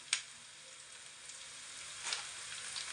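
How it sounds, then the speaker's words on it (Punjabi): Onions and green chillies frying in a pan, a soft continuous sizzle with a couple of brief crackling bursts, close but fairly quiet. "ਪਿਆਜ਼ ਆਪਣਾ ਹਲਕਾ ਜਿਹਾ ਬਰਾਊਨ ਹੋ ਗਿਆ ਹੁਣ ਇਹਦੇ ਵਿੱਚ ਆਪਾਂ ਮਿਰਚਾਂ ਪਾ ਲੈਣੇ ਆ"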